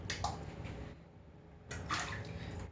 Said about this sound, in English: that is a big splash.